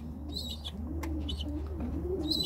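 Homing pigeons in a breeding loft coo in soft, repeated rolling phrases, with a few faint chirps over a steady low background hum.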